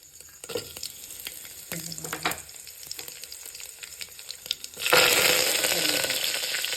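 Mustard and fenugreek seeds fry in hot oil for sambar, crackling and popping in scattered bursts before a loud, dense sizzle surges up and holds to the end.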